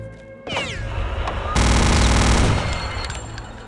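Dense, loud gunfire from many weapons in the shooter game Return to Castle Wolfenstein, with rapid machine-gun bursts building into a sustained roaring barrage before easing slightly toward the end.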